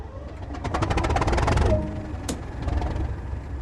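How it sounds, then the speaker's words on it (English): The diesel locomotive engine in the Train Sim World 2 Tees Valley Line cranks with a fast, pulsing churn and catches, then settles into a low rumbling idle, with a brief sharp hiss partway through. "Go ahead and start the locomotive."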